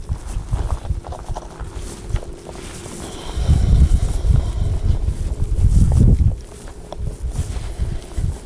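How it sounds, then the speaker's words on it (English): Strong wind at the Mauna Kea summit at sunrise buffets the microphone with a steady low rumbling roar, swelling into heavier gusts through the middle before easing slightly. "The wind that makes it horrible."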